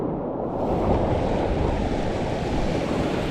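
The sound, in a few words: strong sea waves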